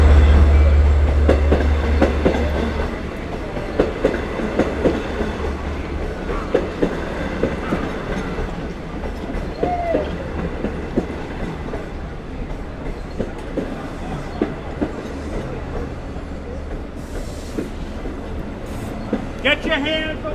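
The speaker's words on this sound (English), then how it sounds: "Get your hands away from the moving train." Long Island Rail Road train rolling past at Westhampton, a loud close continuous rumble with rhythmic wheel clicks over the rail joints and a brief squeal near the end, with voices heard over it.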